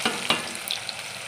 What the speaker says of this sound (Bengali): তেল গরম হয়ে গেছে, এবার আমি কুচনো পেঁয়াজটা দিয়ে দিলাম